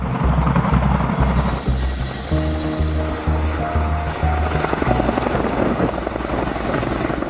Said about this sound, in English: The Chinook can support up to 8 tons using this technique that enables it to easily transport important military items.